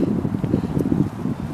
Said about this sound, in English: right now it's windy